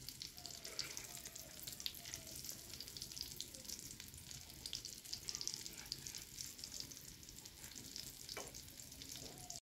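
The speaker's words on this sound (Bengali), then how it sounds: "তাই আমি হালকা আছে কাবাবগুলোকে ভালোভাবে ভেজে নিচ্ছি" Chicken kebabs fry in a pan with a constant soft sizzle and crackle, faint and steady throughout, with occasional light stirring scrapes.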